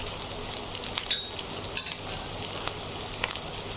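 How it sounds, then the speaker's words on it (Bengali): Chopped green chilies and onion frying in a pan, a steady close sizzle with a few brief clinks and stirring scrapes, no voices. "এবার আমি কাঁচামরিচ এবং পেঁয়াজ একটু হালকা ব্রাউন করে ভেজে নেব"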